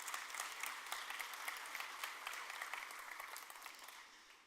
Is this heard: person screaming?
no